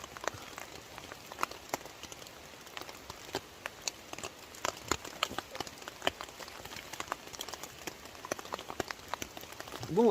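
Heavy rain drums on a tent while wild camping in Scotland, a dense, even patter of countless drops with sharper taps scattered throughout, steady and close with no talking.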